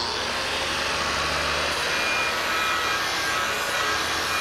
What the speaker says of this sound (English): then you take your sander and you finish off the process